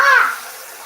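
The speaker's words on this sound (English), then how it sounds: "when it's bubbling like that and doing all that, the alcohol is cooking off of it" Alcohol splashed into a hot pan of frying chicken wings, a brief loud hissing sizzle that quickly settles into a steady bubbling simmer, close by.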